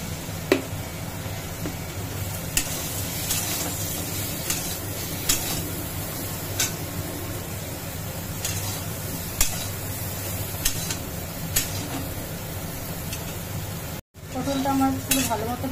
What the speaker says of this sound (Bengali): বেশ কিছুক্ষণ ধরে ভালো করে ভেজে নিতে হবে।